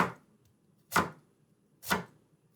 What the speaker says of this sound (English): you can flop that down on the cutting board and then you can continue doing your thin slices like so